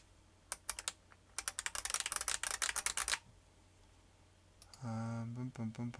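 Keys clacking on an IBM Beamspring 3277 keyboard, a fast run of sharp, loud, close keystrokes, followed by a short buzzy electronic tone near the end.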